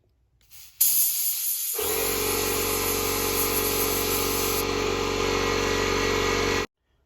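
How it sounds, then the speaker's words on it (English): An air compressor kicks on and an air gun sprays thick paint, a sudden loud hissing blast joined by a low motor rumble, running steadily for several seconds before cutting off abruptly. "Sorry about that air compressor again."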